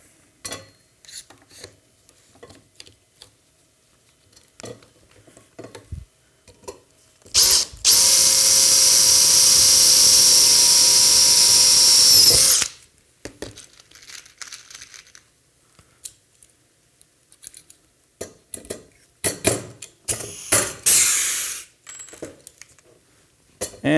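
A power drill running on rivets during a launcher front assembly: one loud sustained whine of about five seconds, then a brief second burst, among scattered clicks, clinks and handling noises.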